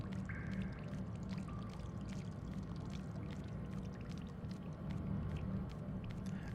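Continuous watery rumble and murky flowing sound in the video game Little Nightmares DLC The Depths, steady and moderately loud throughout, with faint bubbling details on top and no talking.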